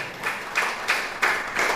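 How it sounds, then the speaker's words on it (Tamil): A church congregation at an Assemblies of God church in Tharmapuram, Sri Lanka clapping hands in praise, a fairly close, rhythmic run of regular claps forming a steady beat with no talk over it. "கைத்தட்டி எல்லாரும் பிரைஸ் தி லார்ட்."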